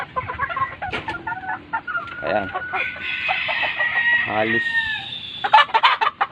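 A three-month-old Sweater gamefowl stag clucks repeatedly and lets out a drawn-out crow, close and fairly loud, with someone speaking briefly at the start and end and other fowl audible around it.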